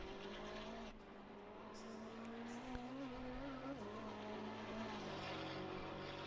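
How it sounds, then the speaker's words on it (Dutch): A V8 engine in a GT4 race car at the Oulton Park circuit gives off a continuous, buzzy, angry drone that holds steady and then shifts in pitch, with no voices over it. "Dat zenuwachtige boze bijenkorf geluid van de V8 vind ik dan wel weer mooi."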